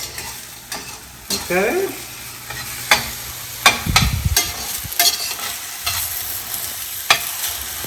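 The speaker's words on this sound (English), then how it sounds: "So we wait until it is caramelized a little bit. Keep stirring it." Caramelizing onions being stirred in a frying pan for chana masala, a spoon scraping and clattering in irregular strokes over a steady sizzle, close and fairly loud, with a brief word spoken.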